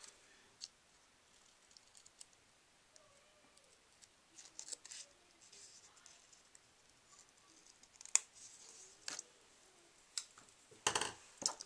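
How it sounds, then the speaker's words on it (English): Small scissors snip quietly in short, irregular cuts trimming excess paper grass from a card, with faint clicks and rustles between them and no talking. "I'm just going to take those same little scissors"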